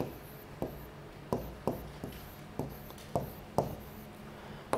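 A pen taps and strokes across an interactive Clevertouch touchscreen whiteboard, giving about ten sharp, close taps at irregular intervals between faint rubbing, with no talking.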